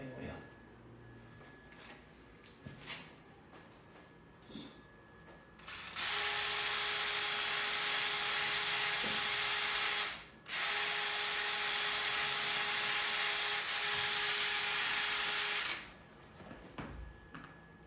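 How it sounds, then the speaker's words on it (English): A buffing wheel runs against an English walnut vase on a woodturning setup: a steady, loud motor whine holds for about ten seconds, breaks briefly, then resumes before cutting off, with quieter handling noises before and after. "I guess we'll turn the other direction on the buffing wheel."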